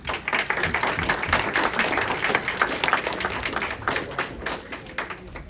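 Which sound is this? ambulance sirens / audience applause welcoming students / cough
audience applause welcoming students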